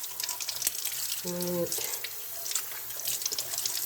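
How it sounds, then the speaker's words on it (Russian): Tap water runs steadily into a sink while a black radish is washed under it, a continuous close splashing hiss, with a brief spoken word partway through. "начала я ее вот так чисто помою под проточной водой."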